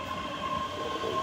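A class 385 electric multiple unit departs Edinburgh Haymarket station, giving a steady, close rolling rumble with a faint high whine throughout and no voices.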